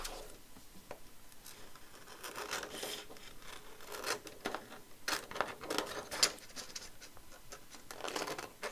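Scissors cutting paper for a craft journal, close and quiet, with irregular snips and rustling rubs and no talking.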